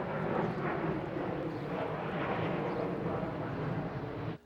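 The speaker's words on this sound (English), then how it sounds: "Airplane." A propeller airplane passing overhead, a loud continuous engine drone that holds for several seconds before cutting off sharply at the end, heard outdoors in a backyard hop garden.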